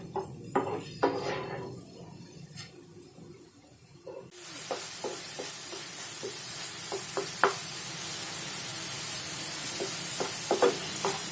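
Tomatoes being sautéed in a pan for pav bhaji: a steady sizzle with a spoon scraping and tapping against the pan at irregular intervals.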